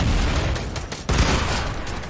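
Gunfire in a competitive scrim match of a shooter video game, a dense run of loud cracks and booms with one sharp report near the middle, over constant game noise.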